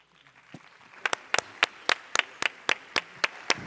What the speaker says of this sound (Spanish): Recibamos, por favor, con muchos aplausos a Marcia Taja.